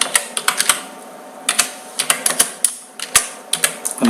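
Typing on a computer keyboard into Notepad, with irregular clusters of sharp close key clicks and brief pauses between bursts.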